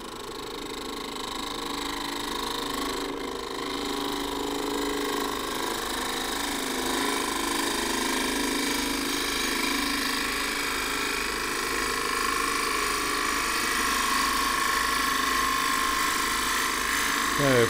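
A woodturning tool cuts green elm on a lathe while a crossgrain tube is turned, giving a continuous close whirring hum and scraping cut, with someone speaking over it.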